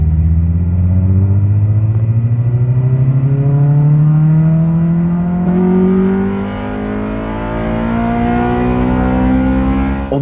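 A Honda Civic Type-R's 1.6-litre engine revs hard toward 8000 rpm, its pitch climbing steadily over several seconds, easing briefly, then surging again; loud, close and raspy with no voices.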